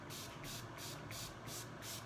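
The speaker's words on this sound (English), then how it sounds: "So you spray it" A handheld spray bottle mists water onto light indoor seed soil in a classroom pot, giving a steady close hiss with rhythmic pulses from repeated squeezes, quiet and with no talking.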